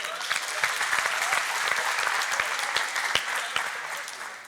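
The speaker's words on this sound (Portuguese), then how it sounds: "vamos aplaudir essa turma aí" A crowd applauds a group at a church youth gathering, dense steady clapping with sharp individual claps standing out throughout, fairly close.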